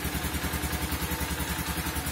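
A Musstang Region 200 motorcycle engine runs at a steady idle after starting, with close, continuous pulsing exhaust and rhythmic mechanical clatter throughout.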